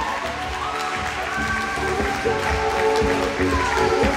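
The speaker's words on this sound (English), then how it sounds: "a great round of applause for this game you got to see today" A crowd claps and cheers after the Rainbow Bites vs Little Red Riveters game, a sustained, moderately loud wash of applause with an announcer's voice and other chatter running over it.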